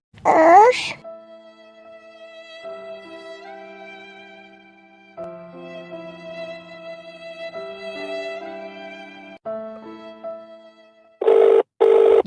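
A phone ringtone in an animated cartoon plays a sustained electronic melody, with short bursts of other sounds at the start and end.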